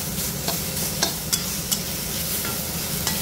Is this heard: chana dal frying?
yes